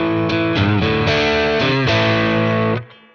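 An electric guitar played through a Boss Blues Driver pedal into a Boss Katana 100 1x12 combo amp, several gritty sustained chords and bends, loud and close, ending abruptly.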